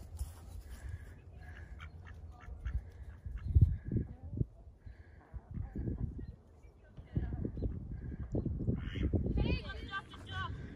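Ducks quacking in a garden alongside chickens, a few close, scattered quacks and honks in irregular bursts, mixed with people talking nearby.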